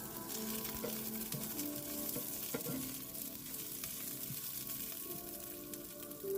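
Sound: beef curry masala with green chillies frying and stirred

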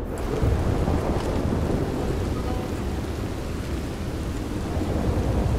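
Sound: heavy rain and thunder in the video game Red Dead Redemption 2

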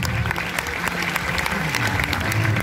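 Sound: audience applause at a water-ski stunt show

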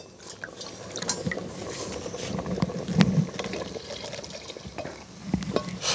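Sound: dissolved millet flour batter poured into cooking porridge

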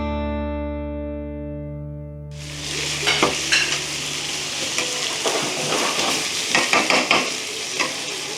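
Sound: food frying in a pan

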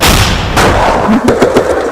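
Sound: gunfire

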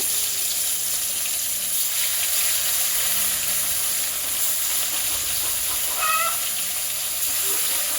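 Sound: frying katla and puti fish in oil

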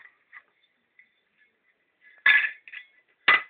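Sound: small hammer tapping off press-fitted cover of vacuum cleaner motor

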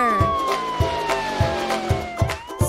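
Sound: police car siren

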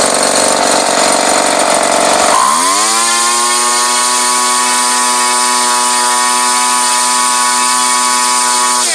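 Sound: 21cc Craftsman gas engine running at low idle

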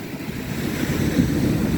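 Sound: sea surf waves breaking on the shore

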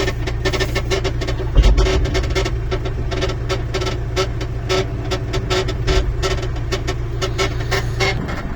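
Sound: homemade excavator machine running and turning

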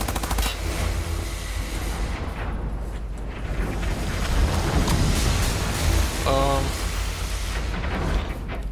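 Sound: assault rifle fire in video game Wolfenstein: The New Order

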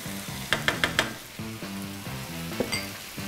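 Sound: onions frying in a pan

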